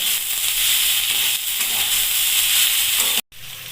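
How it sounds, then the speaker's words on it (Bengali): Onion and ivy gourd fry in a pan in a loud, dense, continuous sizzle with a soft stirring texture, cut briefly by a short break near the end. "এবার পেঁয়াজ কুন্দ্রি ভালো করে ভেজে নেবো"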